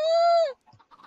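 A Minecraft chicken gives one clear, loud harmonic squawk about half a second long, followed by a few faint short clucks and soft game noises.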